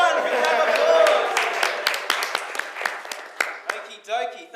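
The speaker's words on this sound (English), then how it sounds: "Good round of applause." Scattered audience clapping for a raffle winner on a live talk show, loud at first and then thinning into a few sparse claps that fade out as a voice begins near the end.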